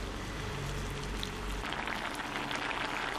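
Kerala olan curry with coconut milk simmering up to a boil in a pot, a close, steady bubbling hiss with no pauses.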